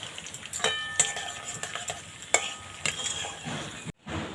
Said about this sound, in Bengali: তিলটা হালকা করে একটু ভেজে নিয়েছি